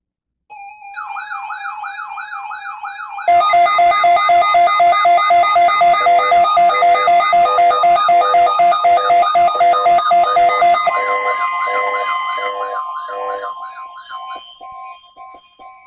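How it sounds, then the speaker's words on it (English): Emergency Alert System warning tones play on NOAA Weather Radio during a required monthly test: warbling electronic tones, then a loud, sustained multi-tone alert that fades out near the end, with no voice present. "The preceding signal is a test of the public warning and alarm"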